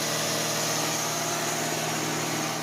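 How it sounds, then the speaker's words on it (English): A Ford Mustang with a swapped engine idles steadily at close range, a continuous engine drone with a fixed hum and no speech. "We let the engine run for about 15 minutes while we cleaned up our mess"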